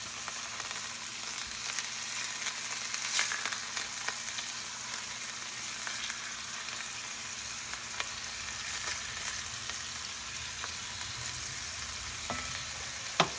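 Meatballs frying in a pan for a Cajun spaghetti dish, a steady, close crackling sizzle with scattered pops throughout and no voices.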